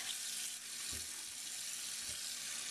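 Water running steadily from a tap into a tub, a constant close hiss and splash with a couple of faint knocks.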